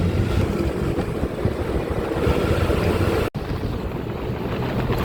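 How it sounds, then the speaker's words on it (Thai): Steady wind rumble and churning water near a port pier with warehouses and shipping containers, a continuous low roar with no voices, briefly cut by a short dropout. "อันนี้ก็จะเป็นท่าเรือ"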